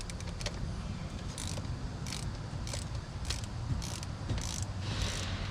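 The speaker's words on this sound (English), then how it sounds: "insert the 3/8 drive ratchet" A 3/8 drive ratchet working on the transmission drain plug of a Tremec TR-3160 manual gearbox in a GT350 / Mach 1: repeated short clicking bursts at a steady rhythm, fairly close over a low background hum.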